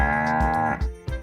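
Several cows moo inside a barn, long drawn-out lowing calls that overlap and trail off, close and fairly loud with no talk.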